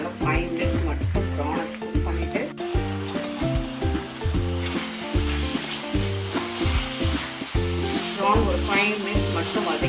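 Prawns sauté in a pan for biryani, giving a steady, close sizzle that runs throughout over a rhythmic musical background.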